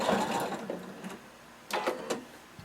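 A sewing machine back stitches the overlapped end of a fringe kimono seam, first a sustained whirring run, then a pause and a couple of short quick bursts.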